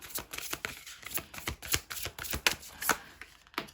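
Tarot cards are shuffled up close in quiet, crisp riffles and taps that come in an irregular run of soft slaps.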